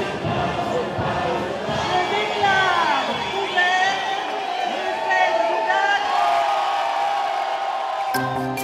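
A dense festival crowd fills the streets of Dax at the feria opening, people dressed in white and red, a steady close wash of chatter and shouts with voices talking throughout.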